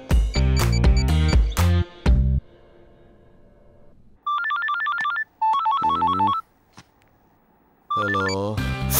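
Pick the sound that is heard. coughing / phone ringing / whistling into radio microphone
phone ringing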